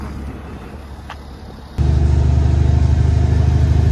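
A semi truck's engine fires up during a pre-trip check, jumping abruptly from a quiet idle background into a loud, steady diesel rumble with a throbbing low pulse that holds on to the end.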